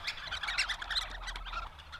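Birds chirp in a nature sound recording, with quick, faint, bright tweets repeating steadily over a low, constant hum.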